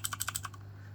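A HyperX clicky mechanical keyboard fitted with rubber key rings, struck in a fast run of about six short, crisp clicks that stop abruptly, heard fairly quietly over a low steady hum.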